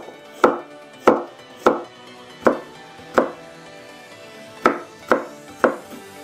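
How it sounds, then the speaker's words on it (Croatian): A knife chops carrots on a cutting board for a Mexican salad, giving eight sharp, close strikes in an uneven rhythm with a longer pause partway through and no talking. "Prvo narežemo mrkvu."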